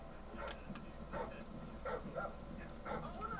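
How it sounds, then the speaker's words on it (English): Attack dogs in Call of Duty: Modern Warfare 3 Survival mode give a series of faint, spaced barks and yips over steady low game background noise. "Thermal scans show attack dogs in your area."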